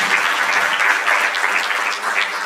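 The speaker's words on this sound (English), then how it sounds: "I believe they deserve a bigger round of applause for their presentation" Audience applause rises at a mental wellness and counselling breakfast conference, a steady wash of many hands clapping that dips slightly near the end.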